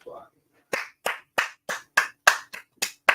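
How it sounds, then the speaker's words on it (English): Sharp, evenly spaced claps, about nine in a steady rhythm, ring out up close at a hip-hop cypher circle. The crowd claps in unison after a short stretch of murmur. "You can clap right away."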